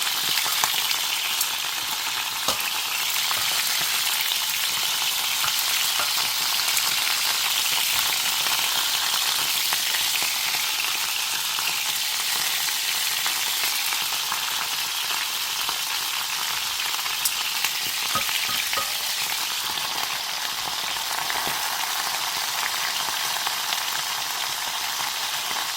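Dried pollock frying in hot oil for a spicy-sweet braise gives a steady, dense sizzle with no speech, loud and continuous for the whole span with small crackles scattered throughout.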